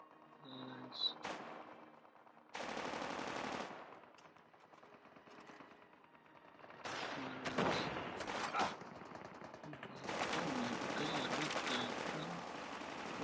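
Bursts of automatic gunfire from a Call of Duty Mobile match, several rapid volleys separated by short pauses, loud and close, with a player talking at times.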